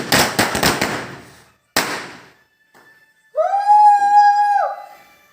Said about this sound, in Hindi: तो बाद में हम क्या करेंगे, बहुत सारे फटाके फोड़ेंगे।